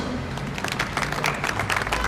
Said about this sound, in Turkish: Bir alkışlayalım efendim. Alkış.